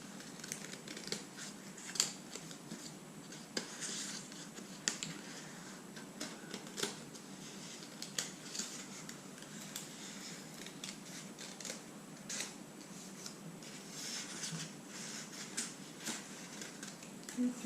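Scissors snipping through paper while cutting out two paper hand shapes for a third-grade craft, a steady run of quiet crisp snips and rustles close by with no talking.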